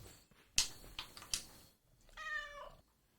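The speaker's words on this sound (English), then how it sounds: "Cat!" A cat meows in the video game Spirittea, a single clear meow near the end following a few sharp clicks, fairly loud and alone with no talk.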